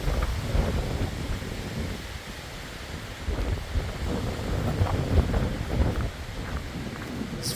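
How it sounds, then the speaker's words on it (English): Strong mountain wind gusts of around 40 miles per hour in the Smoky Mountains buffet the microphone in a steady, rumbling roar that swells and eases, with no talk. "I'm guessing like 40-mile-per-hour gusts"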